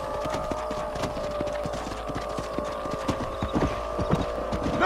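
Horses' hooves clip-clop steadily over a low rumbling hum in Red Dead Redemption, the uneven beat of several animals moving together at close range, with no talk.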